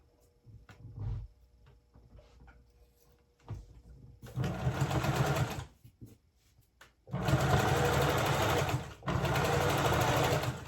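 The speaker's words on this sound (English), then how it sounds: "so I can stitch this area. I'll make this stitch a lot bigger." Sewing machine stitching a man's front trouser pocket, first a few soft handling clicks, then two close, steady bursts of fast mechanical whirring, the second longer, with a short pause between them.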